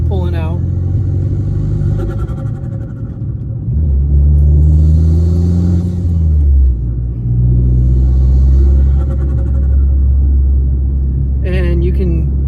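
A Toyota Supra's engine and intake roar steadily while driving, a deep, loud drone with swelling surges of induction noise, with a voice talking over it at times.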